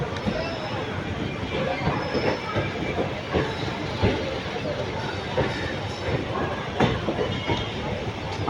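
The Tiruchirappalli–Howrah Express rumbles steadily at a railway station with rhythmic wheel clatter over the rails, loud and close, while someone talks over it.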